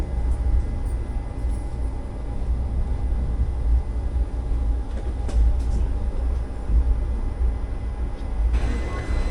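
Train 20624 Malgudi Express rolls into Mysuru Junction in an AC chair car, heard as a loud, steady rumble and clatter from on board that holds to the end.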